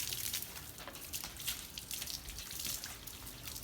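Water washing a Yamaha WR450F enduro motorcycle, a continuous hissing spray with splashing and dripping, steady and close throughout.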